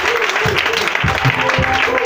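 A church congregation applauds and cheers in a dense, continuous wash of clapping, with voices mixed in and low rhythmic thumps beneath.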